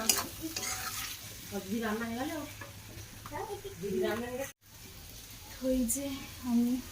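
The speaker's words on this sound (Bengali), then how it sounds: "রান্না করছি দুটো দু কড়াইতে দুদিকে মাছ হচ্ছে এটা হচ্ছে মাছের ঝাল আর এই যে মাছ ভাজা" Oil sizzles steadily in two pans as fish fries, with a voice talking nearby over the hiss.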